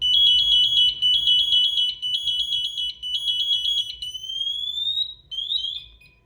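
An SCBA breathing apparatus cycles through its alarm check, sounding a loud close series of shrill rapid electronic chirps and beeps that end in a rising whistle, over a low background hum.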